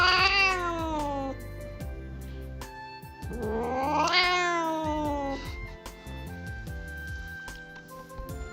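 A cat in a played clip lets out two long, drawn-out meows, loud and close, each rising and then sliding down, with quieter sounds in between.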